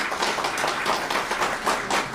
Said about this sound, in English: we really do need to really give her a special round of applause